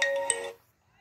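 Mobile phone ringing from an incoming call placed by a GSM SIM900A module, a short electronic ringtone tone lasting about half a second before cutting to quiet.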